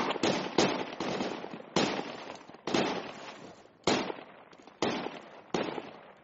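Video game gunfire, a squad member shooting at a house: a run of sharp, loud, evenly spaced shots, each with a short decaying tail, continuing throughout.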